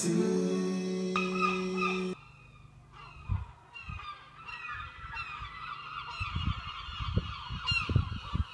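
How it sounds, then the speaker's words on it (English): A baby seagull squawks again and again in the early morning: a run of harsh, repeated calls, fairly close and loud, following a brief steady tonal sound at the start. No one speaks. "That baby seagull down there has been squawking since"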